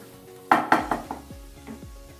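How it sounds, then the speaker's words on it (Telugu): Potatoes being mashed in a metal pan for a potato fry, giving a handful of close, sharp clattering knocks of a utensil against the pan, loudest at first and then fading into lighter taps. "మనం ఇలా ఆలుని స్మాష్ చేసుకోవాలి బాగా మెత్తగా."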